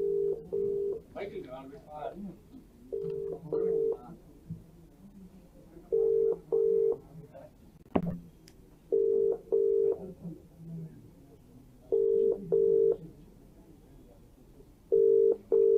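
Telephone call tones sound in short paired beeps, repeating at a steady rhythm about every three seconds, while voices talk faintly underneath.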